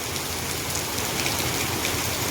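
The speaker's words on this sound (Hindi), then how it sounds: "कितना तेज़ बारिश हो रहा है।" Heavy rain falling steadily over a road, a dense, even hiss of drops that stays constant throughout with no voices.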